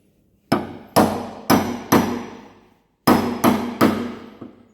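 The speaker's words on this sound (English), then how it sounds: "get the old step bit in there and give that a whack with the hammer" A hammer strikes a step bit seven times in two bursts of sharp, loud metallic whacks, each ringing briefly close up, with short silences between them.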